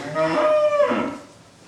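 A single cow on a cattle farm gives one loud, close moo that swells and then fades out over about a second, with no voices.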